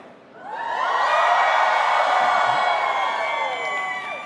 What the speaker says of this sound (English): Let's scream about it.